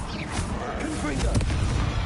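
A Confringo blasting spell goes off in the Hogwarts Legacy video game, one bursting blast over a dense, noisy battle mix, with spoken voices mixed in around it.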